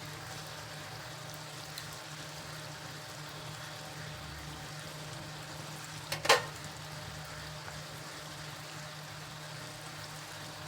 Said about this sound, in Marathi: थोडीशी राहिलीशी तळायची तर आपण अशी पलटून टाकूया पालथी